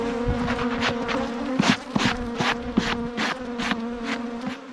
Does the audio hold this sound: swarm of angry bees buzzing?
yes